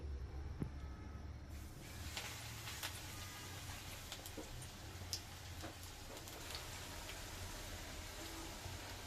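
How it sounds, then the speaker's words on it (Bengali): Cabbage pakora batter sizzles steadily in hot oil over a medium flame, a dense continuous crackle and hiss with small popping ticks, no voices. "এখন একটা সাইড থেকে পাকোড়ার মতো বানিয়ে গরম তেলের ভিতরে ছেড়ে দিচ্ছি।"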